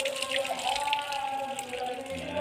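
Water pours steadily over potted ornamental plants, a continuous close splashing and trickle lasting a couple of seconds.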